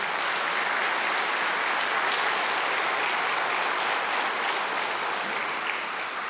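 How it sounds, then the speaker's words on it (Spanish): Sustained applause from a large crowd, dense and even, continuing at steady loudness without pause. "Entonces denle ese aplauso al Señor."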